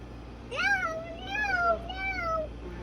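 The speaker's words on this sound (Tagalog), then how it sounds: "Meow, meow." Three drawn-out, rising and falling cat meows come one after another, close and moderately loud over a steady low background hum.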